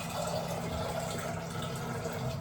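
Water runs steadily into a pan in a home kitchen, a soft continuous splashing fill heard close and quiet, with no talking over it.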